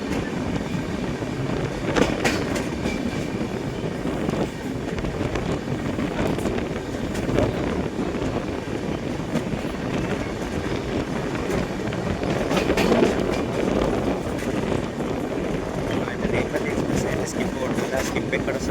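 A passenger train on the Nalgonda to Tirupati route runs along with a continuous rolling rumble and scattered rail clatter, heavy wind buffeting the microphone throughout.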